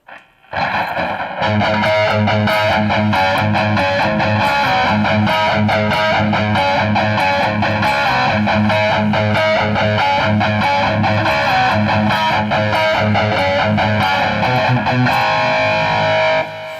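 A loud, distorted electric guitar riff, a song intro, plays continuously after a brief quiet start, chugging chords ringing with heavy overdrive.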